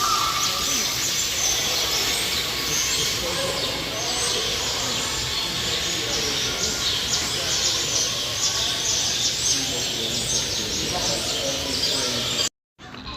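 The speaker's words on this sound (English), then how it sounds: "Had to come in where all the birds are." Many birds calling together inside a zoo's bird area with flamingos, a dense, continuous chatter of high chirps and honks. It stays steady throughout and cuts out briefly near the end.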